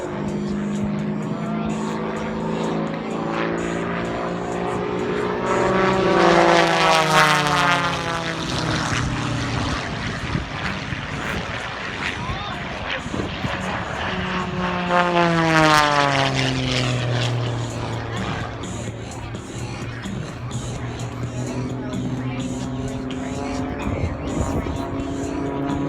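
Propeller-driven aircraft in formation at an outdoor air show, one rolling through an aileron roll; loud, continuous engine drone that rises and swells twice as the planes pass close overhead, with Doppler pitch sweeps.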